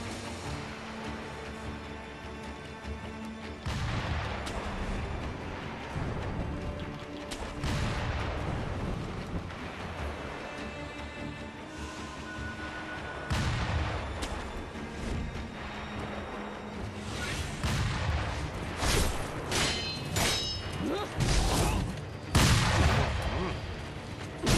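Sniper fire from a gunner's nest in Sekiro: Shadows Die Twice, sharp shots and impacts cracking at intervals over ongoing game noise, growing denser and louder toward the end, with someone talking excitedly throughout.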